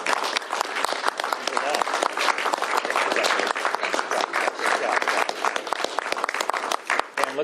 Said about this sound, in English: Please give her a big round of applause as I sign this